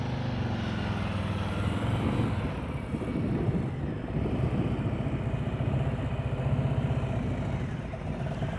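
A motorcycle engine idles low and steady at near-walking pace during slow-speed riding practice, with a constant rumble and wind buffeting on the microphone and no talk over it.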